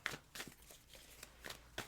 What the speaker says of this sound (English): Let me just shuffle a few more times here and then we'll get your cards out